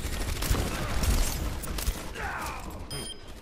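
Enemy turret firing in a video game, rapid crackling bursts of gunfire with mechanical clatter, moderately loud and dense, tapering off with a few metallic tones near the end.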